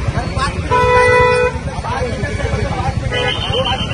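Car horns honk repeatedly, some in long held blasts, amid congested traffic on the Mumbai-Goa highway, with people talking loudly close by.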